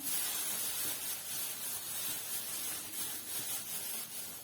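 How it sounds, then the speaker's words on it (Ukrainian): Soft, continuous crinkling and rustling of a plastic bag being handled, steady and fairly quiet with faint pulses of movement. "Так, вірно, це пакет."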